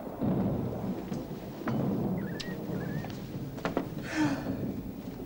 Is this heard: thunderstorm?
yes